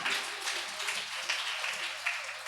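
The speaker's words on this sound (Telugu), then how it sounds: "చప్పట్లు కొట్టండి." An audience at a Telugu church prayer service claps together, producing a dense, steady patter of many hands that holds at an even level throughout.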